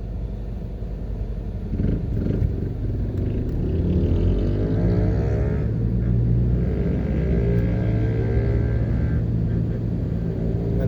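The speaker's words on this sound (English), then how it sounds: "that's another reason why this road has so much traffic" Steady, loud road traffic rumbles along Marcus Garvey Drive near the Kingston wharf in Jamaica, with engines roaring and passing vehicles blending into a continuous close wash of noise, no talk.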